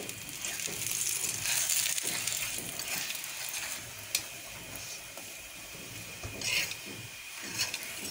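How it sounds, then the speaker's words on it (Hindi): Paratha sizzles and crackles in hot oil or ghee in a pan, with steady spitting and occasional scraping and clinking of a utensil, no voices. "ऑयल या घी जो भी आपको पसंद हो इसमें अच्छे से डालें, ताकि ये अच्छे से फ्राई हो जाए"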